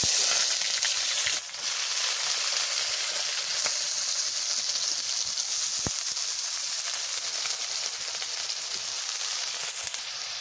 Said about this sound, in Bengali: তেল দিয়ে দিচ্ছি বন্ধুরা পেঁয়াজ রসুন লঙ্কা আলু সব দিয়ে দিচ্ছি তেল গরম হয়ে গেছে